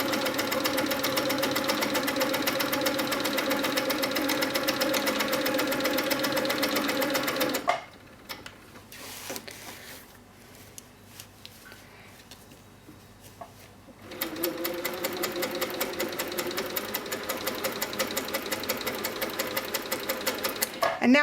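An HQ Sweet Sixteen sewing machine runs loud and steady while quilting with a ruler, stopping for a quiet stretch midway before stitching resumes at the same rapid, even pace.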